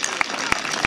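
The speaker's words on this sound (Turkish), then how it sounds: "hepsine bir alkış alalım çünkü alkış aynı zamanda bir moral döner güzelliktir" Wedding guests applaud in a hall, a thin clapping wash punctuated by a few sharp, close individual claps at irregular intervals, fairly quiet overall.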